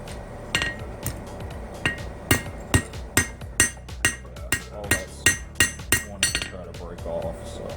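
Blacksmith's hammer strikes metal on an anvil while forging a small hummingbird piece, a steady series of about twenty loud, ringing blows in an even rhythm, with brief pauses between some of them.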